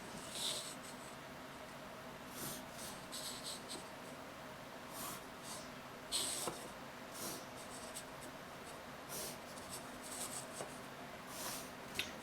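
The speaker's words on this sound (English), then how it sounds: "I like to put the pencil right on that point, and then use the ruler, push it right up to the pencil, and run up to the letters" A pencil drawn along a ruler while sketching 3D block letters in one-point perspective: faint, close scratchy strokes come in short repeated bursts with small pauses between them, and no voice is heard.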